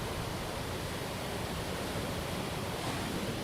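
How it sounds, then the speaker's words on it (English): Constant loud roar of ocean surf on the beach in Isabela, Puerto Rico, a dense unbroken wash of breaking waves with no voices. "This is how loud the ocean is from where we are."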